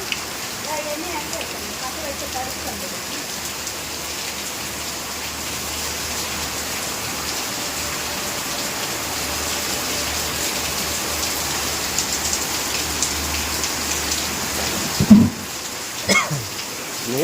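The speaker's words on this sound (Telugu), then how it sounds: "వాన ఫుల్ వాన అయితే పడుతుందండి" Heavy rain pours down in a steady, dense roar, with a few louder splashes and knocks near the end.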